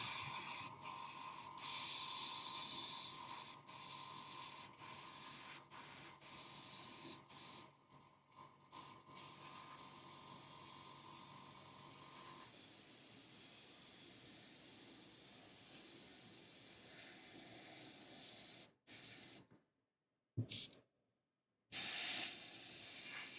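Airbrush spraying paint, a steady close hiss running for long stretches, broken by short sputters and a few abrupt stops and restarts near the end.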